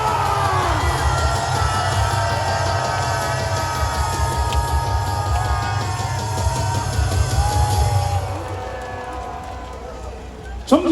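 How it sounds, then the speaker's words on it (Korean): A large crowd at a Liberation Day political rally in Gwanghwamun, Seoul, applauds and cheers in a dense, continuous roar for about eight seconds before easing off, with voices mixed in. "정장훈 목사님을 기린 박수로 모시겠습니다."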